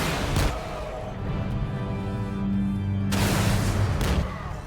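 Explosions from vehicles being destroyed in the strategy game Warhammer Battlesector, a steady loud rumbling roar with deep booms near the start and a heavier blast burst around the third second, continuous throughout.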